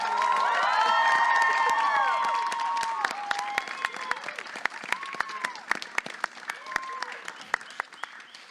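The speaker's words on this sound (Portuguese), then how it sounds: "Palmas para a Débora Garcia." An audience applauds a poet, Débora Garcia, at a poetry event: loud, dense clapping with cheering swells at first, then thins into scattered, irregular claps with a voice or two murmuring underneath.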